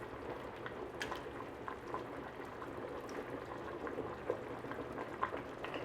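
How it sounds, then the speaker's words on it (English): Pot of water at a rolling boil with collard greens submerged in it, a steady bubbling hiss with scattered small pops and gurgles, close and moderately quiet, no talking. "these are the colored greens that are sitting in that boiling water"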